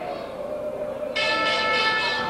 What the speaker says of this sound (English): And the bell sounds, it's curfew.